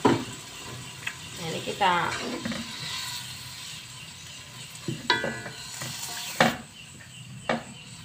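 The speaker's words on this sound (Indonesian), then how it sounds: "Kita masukkan air biar ayamnya nanti matang ya" Spicy chicken wings hiss and crackle in a pan as water goes in, with a utensil scraping and stirring through the bubbling. Someone speaks briefly over the cooking.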